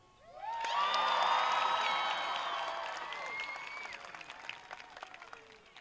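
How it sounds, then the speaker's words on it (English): A high school graduation crowd screams and claps, with cheering and whoops that rise sharply, hold for a few seconds, then thin into scattered clapping and shouts. "scream out and clap."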